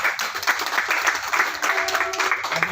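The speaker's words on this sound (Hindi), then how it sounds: "जोरदार तालियों से स्वागत।" Loud crowd applause and clapping welcome a guest at the foundation day ceremony of the Sainik Seva Parishad youth organisation, with bursts of claps rising and falling over a few seconds.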